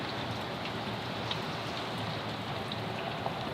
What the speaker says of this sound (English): Here's a horse that likes to be in the rain.